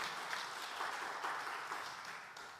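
Congregation at an Indonesian church worship service claps for God, a faint, distant, continuous patter of many hands with no voices over it.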